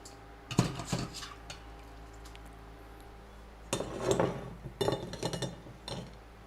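A metal strainer scoops chicken out of a pot of plain water, giving clusters of close clinks and scrapes against the pot with brief watery splashes, separated by quieter pauses.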